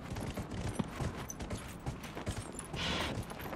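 Horse hooves clop at a steady, rapid rhythm in the Dragon Age video game, mid-loud and continuous under other game noise.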